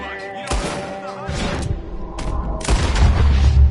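Heavy gunfire in a video game, loud booming shots and bursts close by in a dense, continuous battle mix with rumbling low impacts.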